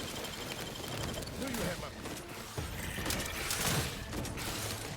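Weapon fire in The Outer Worlds 2 video game, a quiet, continuous rattle of rapid gunshots with clattering mechanical noise, a voice talking faintly underneath.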